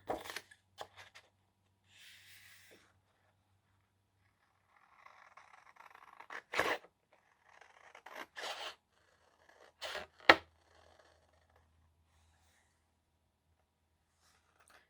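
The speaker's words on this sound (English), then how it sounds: "I'll finish with the scissors" Scissors cutting decorative paper for a Christmas junk journal page, with sparse crisp snips and soft scraping paper rustles spread through quiet pauses, close and faint.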